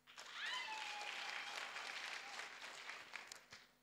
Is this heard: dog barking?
no